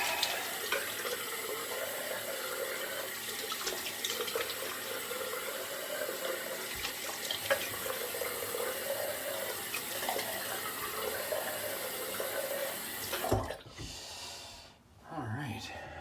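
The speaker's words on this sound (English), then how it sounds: "Now we're going to the cold water rinse and the post." A bathroom tap runs for a cold rinse after shaving, a steady hiss of flowing water with splashing and snorting breaths as the face is rinsed, then the water cuts off near the end, leaving faint splashes.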